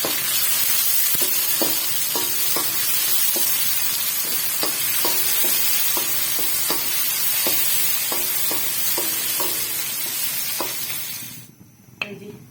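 Tomatoes frying in a pan for sarson ka saag, with a steady loud sizzle and repeated rhythmic spatula taps and scrapes against the pan before the sizzle cuts off near the end.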